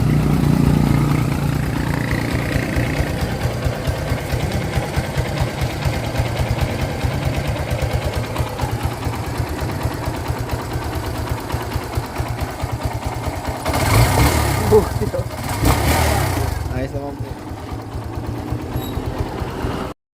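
A Kawasaki Barako motorcycle engine runs steadily after an upside-down oil filter was corrected, its close, even idle chugging throughout with a short louder rev burst near the end before cutting off.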